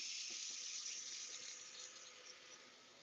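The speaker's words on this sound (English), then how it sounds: "So I'm going to turn the water on" Water pours steadily from a kitchen sink faucet in a smooth continuous hiss, close and fairly quiet, easing slightly toward the end.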